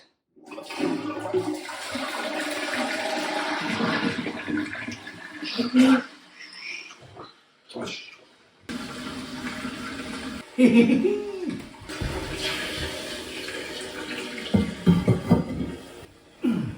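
A newly installed, freshly plumbed-in toilet is flushed: a loud rushing flush of several seconds, a short pause, then a second strong surge of water with gurgling and a refill running on steadily to the end.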